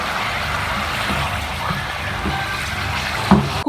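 Pieces of meat hit hot oil in a white karahi, giving a steady, dense sizzle and spatter that holds evenly throughout, with a brief louder pop near the end.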